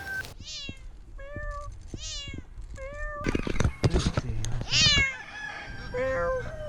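A cat stuck in a tree meows repeatedly in drawn-out, pleading cries, with rustling and scraping noises in between.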